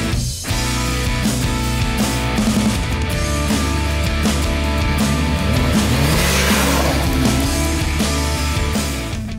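Triumph Tiger 800 motorcycle, 2018 model, engine revved hard toward the top of its range, a loud, sustained, close roar with rising and falling pitch.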